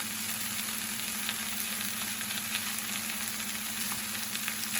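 Meat, mushrooms and spinach stirred together in a frying pan for a potato frittata, giving a steady close sizzle with a low hum and soft scraping throughout, no talking.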